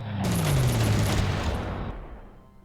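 Sustained burst of rapid machine-gun fire in the strategy war game Panzer Corps, shooting down a Lancaster bomber, loud and dense for about two seconds with a descending engine whine underneath before it cuts off and fades.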